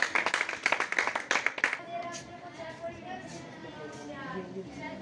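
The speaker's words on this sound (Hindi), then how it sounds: "बच्चों, जोरदार तालियां, क्लैपिंग।" Schoolchildren clap for a prize winner at an art and craft competition, a loud burst of rapid handclaps for under two seconds before a voice takes over and speaks.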